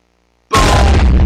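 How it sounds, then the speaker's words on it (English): A loud Minecraft explosion bursts in after half a second of silence, a full broadband boom that sustains and rumbles to the end without fading. "Let's do a double explosion there."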